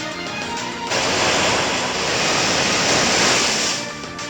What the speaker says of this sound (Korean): 파도 타기